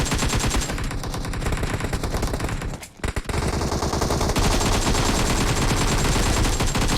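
Hip-fire gunshots in PUBG Mobile during a competitive clan-wars scrim: dense, loud rapid automatic bursts run almost continuously, with a brief drop near the middle before the firing resumes.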